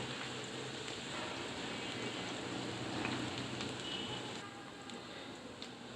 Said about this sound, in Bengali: পেঁয়াজটা আমি কিছুক্ষণ নেড়ে চেড়ে ভাজা নেবো